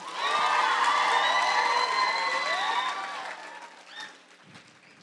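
A middle school talent show audience claps and cheers with whoops and shouts, loud at first, then fading out over a few seconds.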